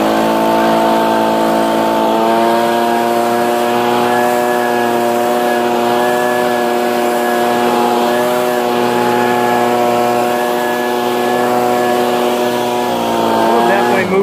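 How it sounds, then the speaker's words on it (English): An Echo PB 2520 handheld leaf blower running in a yard: a loud, continuous two-stroke engine whine that steps up in pitch after a couple of seconds, holds steady for a long stretch, then shifts again near the end. "Blow some leaves back here."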